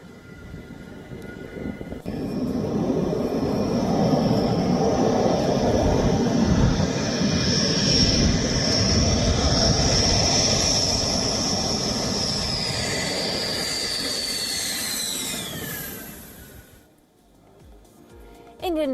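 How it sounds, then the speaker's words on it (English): Rafale fighter jets landing at Ambala Air Base roar in a loud, sustained wash of jet noise with a high whine that holds, then slides down in pitch and fades before a brief quiet at the end. "the visuals of the landing of the Rafale jets at the Ambala Air Base"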